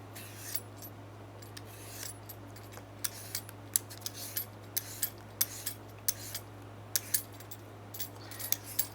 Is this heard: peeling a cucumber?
yes